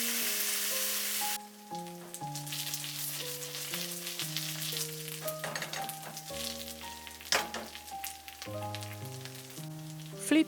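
An okonomiyaki cabbage pancake grills in a covered pan, a soft continuous sizzle and crackle running beneath a melodic background tune.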